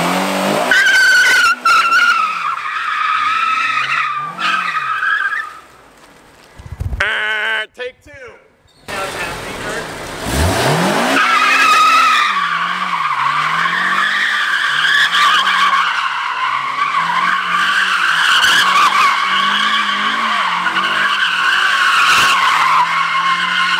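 A BMW E46 M3 track car spins with its tires skidding, loud sustained tire squeal and engine revving that drop out briefly, then resume with a long screeching whine over engine drone, with people talking nearby.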